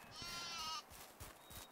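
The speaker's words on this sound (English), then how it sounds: "I think these are sheep and goats." Sheep and goats bleat in the farming game Medieval Dynasty, one drawn-out wavering call up front followed by a few shorter, softer animal sounds at moderate distance.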